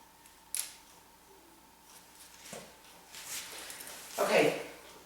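Scissors point-cut short hair on a woman, a few quick close snips scattered through a soft-spoken explanation.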